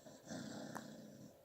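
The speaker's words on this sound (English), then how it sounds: "excuse my dog snoring in the background" A dog snores in the background with a low, rough, rasping breath that swells and lingers for about a second, faint and indoors, with no one talking over it.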